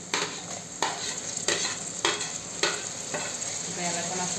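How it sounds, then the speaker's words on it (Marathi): Chopped tomato with onions sizzles in a pan for pav bhaji, a soft steady fry broken by several sharp scraping stirs of a spoon, close and without talk. "याला पण असं छान परतून घ्यायचं"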